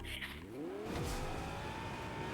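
Car in Fortnite's zero-build mode starting up and accelerating, a rising engine tone that climbs steadily after a short skid-like burst, close and continuous with no talk.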